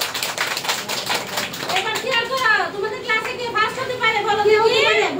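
Children clap in a school classroom during an exam results announcement, a steady patter of many hands running the whole stretch while someone talks over it.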